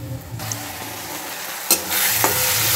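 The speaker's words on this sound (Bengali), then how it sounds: "এবার আদা রসুনটা একটু কষে নেব" Ginger-garlic paste fries in a pan for a chicken and potato dish. A soft, steady sizzle is broken by two sharp clatters of the utensil, and the sizzling grows louder after them.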